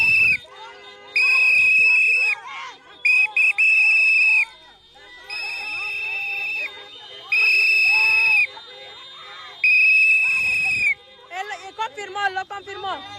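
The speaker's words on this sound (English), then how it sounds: "Those fucking whistles." Protesters blow shrill whistles in long repeated blasts, loud and close, with shouting and crowd noise between them.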